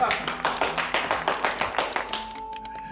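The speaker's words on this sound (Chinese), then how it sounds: "来，掌声鼓励，你就坐" A group of people claps at a school gathering, a quick even patter of applause close by that thins out and stops near the end.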